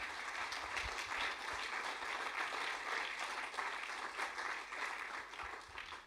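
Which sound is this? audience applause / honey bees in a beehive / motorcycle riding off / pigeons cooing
audience applause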